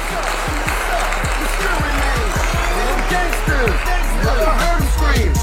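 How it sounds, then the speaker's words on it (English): An audience at a live hip-hop show claps and cheers in a dense, steady wash of applause that holds for about five seconds, with crowd noise mixed in. "let's give a big round of applause"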